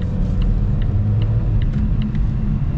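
A 2024 Volvo S60 Black Edition accelerates, a steady low engine rumble and road drone filling the cabin throughout with no talking.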